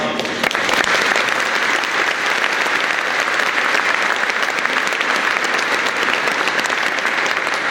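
An audience in a church applauds loudly and steadily after a mass performance by a Slovenian-born artist, a dense continuous clapping that fills the room without a break.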